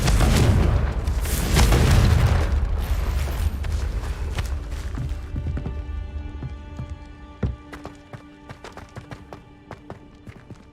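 A Confringo fire spell explodes in Hogwarts Legacy with a loud, heavy boom, then the blast decays into a rumbling tail and scattered crackling impacts, with no talking.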